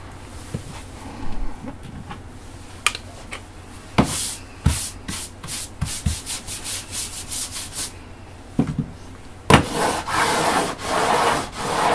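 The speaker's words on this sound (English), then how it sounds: "You want to make sure you don't run off the edge of the sandpaper here" An acoustic guitar part is rubbed back and forth across sandpaper on a workbench, rasping strokes in a repeating rhythm, some quick and short, others longer and heavier, close and clear.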